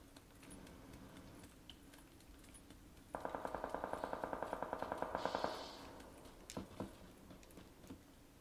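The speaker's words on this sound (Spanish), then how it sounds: "Yo escucho disparo" Video game gunfire erupts as a rapid burst of automatic shots, about two dozen evenly spaced cracks over two seconds, followed by a few scattered single shots, heard at moderate distance over low background noise.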